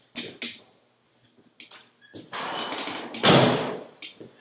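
A back door being closed in a house under renovation: several thuds and a sliding rattle, then a longer broadband rush and a firm closing thump, fairly close, with no one talking.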